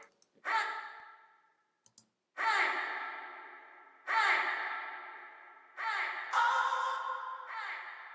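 Several bright synth stabs, each followed by a long reverberant tail that slowly decays into silence before the next hit, with a few small clicks.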